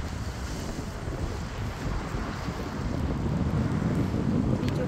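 Wind buffets the microphone steadily on the shore at Shelly Bay, Bermuda, in winter, with a calm sea washing beneath it as a continuous broadband rush that grows slightly stronger toward the end.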